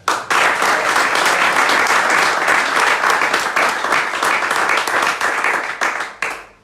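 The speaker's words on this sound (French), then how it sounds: "Donc je vous propose d'applaudir les reçus de l'édition 2019." Audience applause at a jury deliberation ceremony honouring 2019 graduates of an HSCE training programme, steady dense clapping from many hands throughout, loud and sustained before tapering off at the end.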